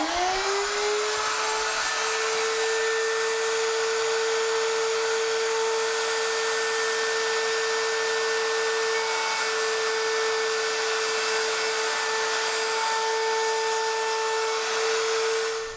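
A router spins up to a steady high whine on a Kreg router table and keeps running loud and continuous while it cuts wood, with the pitch shifting slightly as it works.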